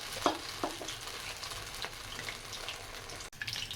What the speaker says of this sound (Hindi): गर्म हो गया हमारा ऑयल। इसके अंदर हमने विंग्स उठा के डाल देने हैं।